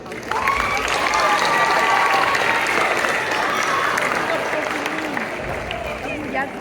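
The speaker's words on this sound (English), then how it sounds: "Let's give them another round of applause." A school Black History assembly crowd claps steadily, a full, loud round of applause with scattered cheers that holds evenly for several seconds before thinning slightly.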